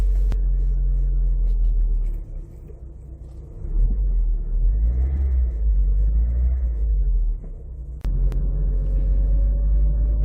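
A 1998 Vauxhall Corsa B 1.4i Cabriolet driving on the road, its small four-cylinder engine giving a steady low rumble and hum that swells and dips with gear changes, a couple of sharp clicks along the way.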